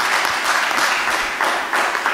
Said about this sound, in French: Est-ce que vous pouvez vous applaudir?